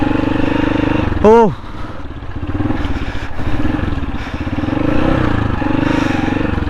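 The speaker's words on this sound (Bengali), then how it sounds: "এই বাইকের জন্য খারাপ না, কারণ এই বাইকটা তো বানানোই হয়েছে অফরোডিং এর জন্য।" An off-road motorcycle labours over a rough, muddy road, its engine chugging and revving unevenly up close while someone talks over it.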